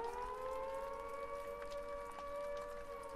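Siren in the video game Repella Fella, a steady, faint wailing civil defense tone with layered pitches sounding alone throughout.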